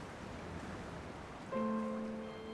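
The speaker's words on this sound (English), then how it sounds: "Hey, it's a river." A river in the video game Dear Esther gives a steady wash of flowing water. About halfway through, sustained tones rise above the water.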